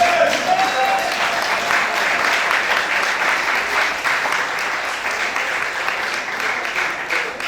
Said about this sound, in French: Acclamons le Seigneur ensemble.